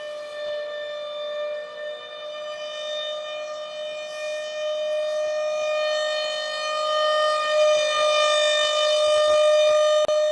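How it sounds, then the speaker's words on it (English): A Thunderbolt civil defense siren, driven by an air compressor blowing into its chopper, wails with a steady, rich multi-toned drone, loud and sustained, its pitch holding while the volume slowly swells as it rotates 360 degrees. "This siren used an air compressor that blew a large volume of air into the siren's chopper"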